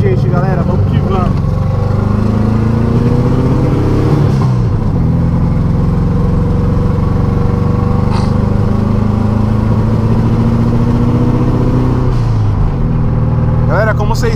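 A turbocharged VW Beetle (Fusca) with a Garrett 48/35 turbo and 3-step rev limiter drives along, its engine droning loud and steady with rising revs near the start and end, with voices talking over it.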